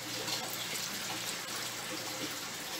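Water pours into a blender holding screwpine leaves, a faint, steady trickle and splash heard close up for a few seconds, with no voices.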